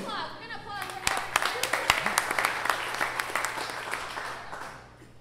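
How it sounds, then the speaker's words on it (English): An audience at a 1 Million Cups startup pitch event applauds the speakers with a sustained burst of clapping that fades out at the end, while voices talk over it. "All right, round of applause."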